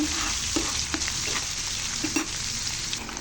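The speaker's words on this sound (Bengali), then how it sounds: "এবার আমি এটা ভালো করে নাড়াচাড়া করে নেব।" Beef with mustard paste and garlic stirred in a hot oiled pan, a steady loud sizzle and frying hiss broken by short scrapes of a spoon, close and continuous, with no one talking.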